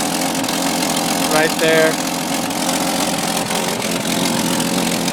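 A 1966 Ford Mustang engine idles after a cold start with a steady, loud, even rumble that runs throughout, while a person briefly speaks over it.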